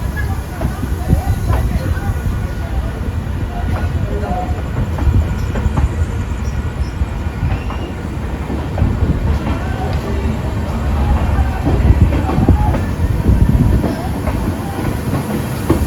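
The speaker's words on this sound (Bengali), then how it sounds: "আমাদের ট্রেন এখন ছেড়ে বেড়াচ্ছে রানাঘাট জংশন।" A train departing Ranaghat Junction on a new service toward North Bengal, heard from on board as a loud, steady rumble and rattle of the carriages with hiss, continuous throughout.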